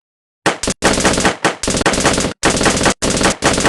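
Loud, close machine gun fire in a Lego WW2 stop-motion battle between U.S. infantry and German gunners: several rapid sustained bursts separated by short pauses, with no talk.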